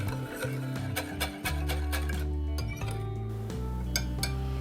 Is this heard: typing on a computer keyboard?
no